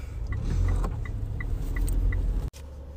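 A high-mileage Mitsubishi Outlander Sport driving, heard from inside as a steady low engine and road hum with faint repeating ticks, ending in a sharp click and a quieter hum.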